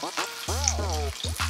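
Bibigo bulgogi mandu dumplings pan-frying until crispy give a brief, steady sizzle with a tonal, voice-like hum over it.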